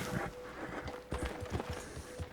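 A horse's hooves clip-clop steadily at a walk in Red Dead Redemption 2, the regular thuds close and clear over light outdoor ambience.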